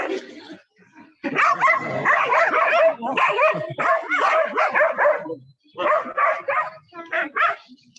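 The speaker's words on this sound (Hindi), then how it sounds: "इन कुत्तों का झगड़ा हो गया था" Several dogs fighting in a park, snarling, barking and yelping in loud, overlapping bursts with brief pauses between flurries.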